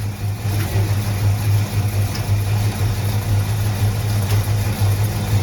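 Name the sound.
engine revving up from idle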